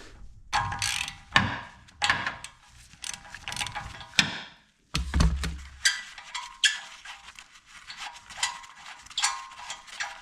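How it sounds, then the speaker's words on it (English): A ratchet clicks in quick bursts while the front brake caliper is removed from a third-generation Toyota Tacoma, with a short pause and a few dull knocks between the close, moderately loud ratcheting runs. "Now I'm going to get the brake caliper off."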